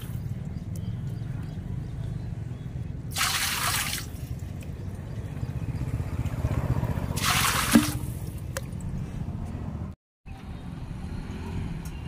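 Water from a supply valve trickles and splashes steadily at a moderate level, with two brief bursts of hissing spray and a short break near the end.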